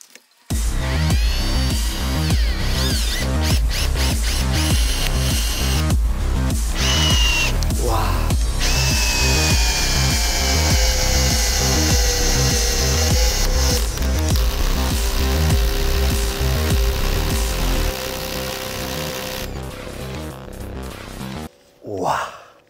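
A Hilti SFC22-A cordless drill drives hard into wood with a loud, close whining motor that labors and pulses under load, stops and restarts briefly, then winds down, with a few breathy gasps around it.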